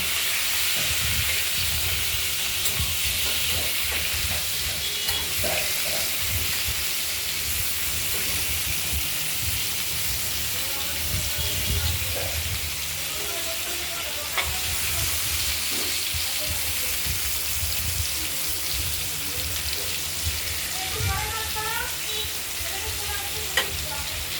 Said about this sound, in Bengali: পটলগুলো ভাজা হোক এরপরে কেটে রাখা আলুগুলো ভাজা করব